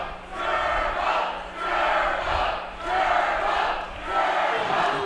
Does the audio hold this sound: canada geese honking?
no